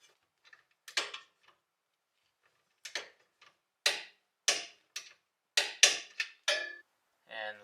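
Torque wrench clicking as bolts on the underside of a 2015-or-later Subaru WRX are tightened to 59 foot-pounds during an air suspension install, heard as a series of sharp, separate clicks and ticks spread unevenly across the stretch.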